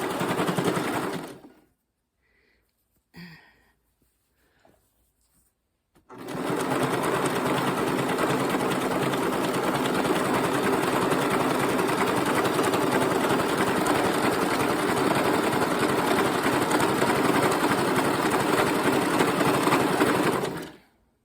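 Sewing machine stitching a jelly roll quilt, running in one long steady burst of about fifteen seconds after a few brief starts and stops, close and loud.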